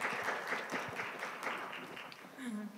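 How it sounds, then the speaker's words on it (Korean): An audience applauds to welcome a speaker at a conference session, a steady, moderately distant wash of clapping that fades slightly toward the end. "왕 박사님을 큰 박수로 맞이해 주시기 바랍니다."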